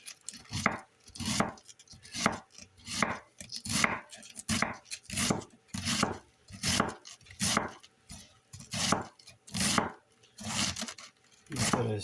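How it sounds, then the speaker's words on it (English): Knife chopping cabbage for sauerkraut, a steady run of about fourteen close, loud cuts roughly one every second, each a crisp thud on the board with a scraping tail, no talking. "And then I'm going to chop this up."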